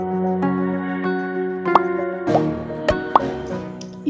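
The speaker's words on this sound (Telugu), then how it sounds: "స్టఫింగ్ కోసం వేయించిన అటుకులు, వేరుశనగపప్పు, కార్న్ఫ్లేక్స్, ఉల్లిపాయలు ముక్కలు, కొత్తిమీర, నిమ్మకాయ ఇవి ఇందులో ఒక్కొక్కటిగా యాడ్ చేసేసుకుందామండి ఒక బౌల్లో." Fried poha, peanuts, cornflakes, chopped onion, coriander and lemon drop one after another into a bowl, giving a series of soft, separate plops over a steady musical background.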